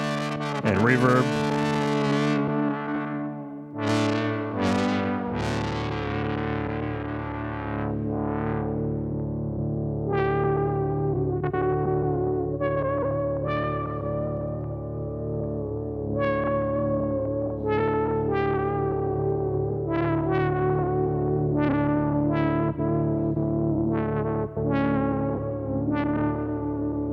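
A Generation Loss MKII lo-fi pedal with reverb colours a sustained chord-based instrument, producing swelling, wavering tones with washed-out echo tails and a slightly distorted, degraded texture over a steady bed.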